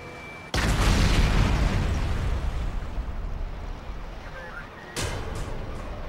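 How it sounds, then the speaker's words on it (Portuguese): A huge sudden bomb blast booms in, then a long rumbling roar slowly decays, followed by a second sharp burst near the end. "A grande explosão mata 11 pessoas."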